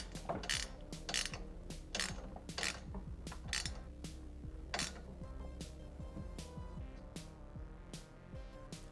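Bolts on Honda Grom MSX125 crash bars being snugged down, a quick series of sharp metallic ratchet clicks and tool taps in an uneven rhythm, close and clear, with no talking.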